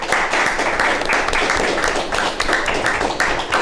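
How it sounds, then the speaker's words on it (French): An audience applauds the players at a school quiz competition, a loud, dense burst of clapping that holds steady throughout with a few sharper individual claps. "On va les applaudir pendant que les juges terminent le calcul"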